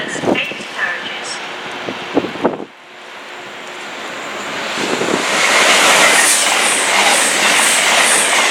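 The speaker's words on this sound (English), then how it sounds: "This train has 8 carriages." An eight-carriage passenger train with units at front and rear passes through Watford Junction, building from a rumble into a loud sustained rush of wheels and rail noise. Brief voices and clatter come before it.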